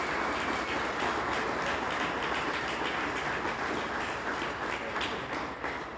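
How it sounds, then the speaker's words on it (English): An audience at a Hall of Fame induction ceremony gives a steady, dense round of applause for the inductees, holding at an even level throughout with no talking over it. "Let's give them a round of applause"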